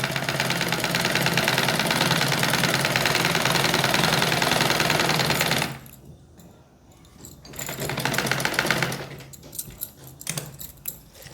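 A sewing machine stitches a half-inch curved seam on the seat of palazzo pants. The motor hums with a fast, close rattle for several seconds, stops, then starts again in a shorter burst before trailing off into handling noises.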